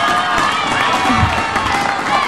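Audience for the singer cheers and applauds loudly and continuously, a dense wash of crowd noise with high excited shouts throughout.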